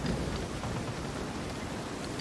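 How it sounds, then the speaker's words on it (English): Steady heavy rain during a storm at sea in Sea of Thieves, a dense continuous hiss with a low rumble underneath, constant in level and heard alone without voices. "A lot of times in your storm, all this rain, that lightning can hit your ship"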